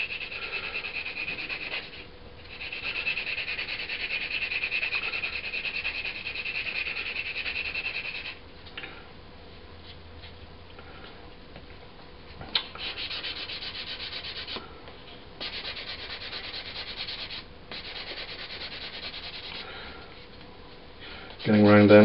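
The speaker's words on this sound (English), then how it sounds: "I'm using a very coarse sanding stick here" A very coarse sanding stick rasps back and forth over a Hellcat scale model, close and rhythmic strokes in bursts separated by short pauses.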